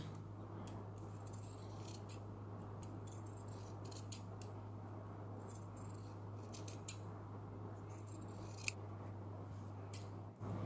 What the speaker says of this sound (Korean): 시접을 바짝 잘라주세요